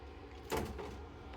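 Small air fryer door being pulled open while making toast, one short clunk with a brief rattling slide, close and alone in a quiet kitchen.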